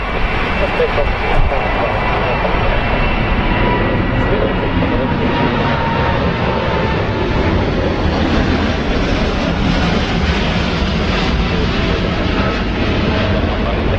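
A Boeing Dreamliner airliner takes off from runway 27 right at London Heathrow, its engines a steady broad roar that stays loud and constant throughout, with voices talking over it.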